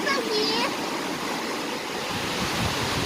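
Strong ocean waves roll in at a beach near Port Hope, Canada, a steady broadband roar of surf with a brief high voice calling out early on.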